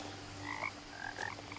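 Frogs croak at a small pond in the video game What Remains of Edith Finch, a few short throaty calls rising over a steady low ambient hum, fairly faint and unaccompanied by talk.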